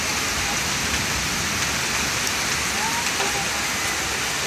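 Heavy tropical storm rain pours down in a dense, loud, unbroken roar close by, a steady wash of drops with no pauses.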